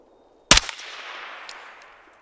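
A single loud, close rifle shot fired unsuppressed from a rifle fitted with a bootleg adjustable bolt carrier group, a sharp crack followed by a rolling echo that fades over about a second and a half.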